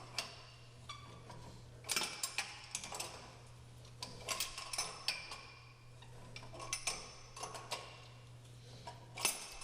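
Metal clicks and ticks of a smooth-jaw spud wrench turning chrome stops on a Sloan flush valve, a close run of irregular light taps and scrapes over a steady low hum.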